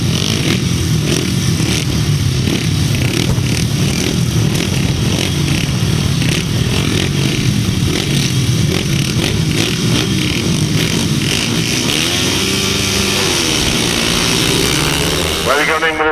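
350cc grasstrack racing motorcycles roar around the track at the Bewdley grasstrack meeting in 2006, a continuous loud buzzing engine drone with shifting revs, while a public-address commentator talks over it.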